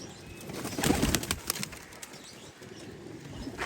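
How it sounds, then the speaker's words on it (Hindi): A panicked pigeon beats its wings in a burst of rapid flapping, close and fairly loud, then quieter rustling and faint background sounds follow. "ये फुल घबराया हुआ कबूतर है भाई"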